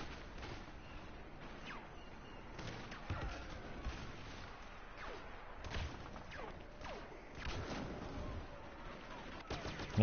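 Turret gunfire in the Star Wars Battlefront video game: a string of irregular, fairly faint shots and thuds over a steady rumbling background of battle noise.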